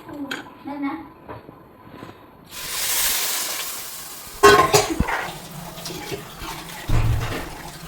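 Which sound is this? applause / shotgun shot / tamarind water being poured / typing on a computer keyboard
tamarind water being poured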